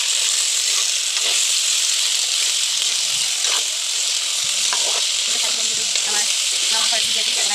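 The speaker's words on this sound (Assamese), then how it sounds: "আমাৰ সম্পূৰ্ণৰূপে মাংসখিনি দিয়া হ'ল, এতিয়া অলপ লৰাই দিওঁ।" Chicken pieces sizzle loudly in a hot pan, with steady frying hiss and intermittent scraping and clacking as a spoon stirs the meat, no voices.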